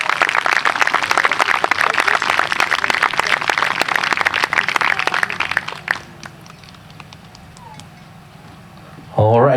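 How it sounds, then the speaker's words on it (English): Audience clapping at a high school graduation ceremony, a dense spread of applause for about six seconds that then fades to a quiet room before a brief loud burst at the end. "big round of applause for Richard Down"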